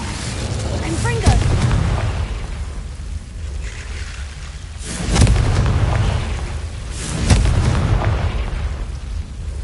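Three booming blasts from the Confringo spell in Hogwarts Legacy, spaced a couple of seconds apart. Each is a loud low burst that fades quickly over a rumbling game background.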